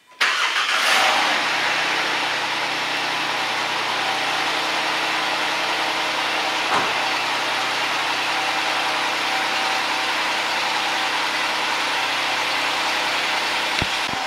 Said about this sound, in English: we're in a position where we can go ahead and start the Jeep,